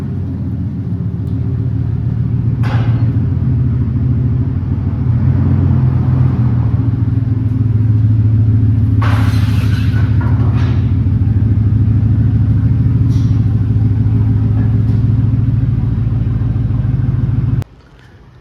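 A wrecked 2015 Ford F-150 Platinum pickup rumbles loudly and steadily at low speed as it rolls into a shop, its engine droning close by until it is switched off abruptly at the end.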